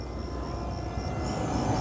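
An E-Flite EC-1500 radio-controlled model airplane, a big draggy plane, flies overhead with a steady, continuous motor drone and a faint high whine, fairly loud and unbroken throughout with no talking.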